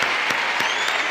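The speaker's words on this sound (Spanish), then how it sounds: "Un aplauso." A studio audience on a Colombian talk show claps in a short, brisk burst, loud and close, with a few sharper accents rising out of the steady clapping.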